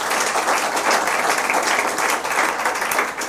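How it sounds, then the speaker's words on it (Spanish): A church congregation applauds steadily at a worship service, a dense, sustained wash of many hands clapping at even loudness throughout, with no voices standing out. "Denle un aplauso."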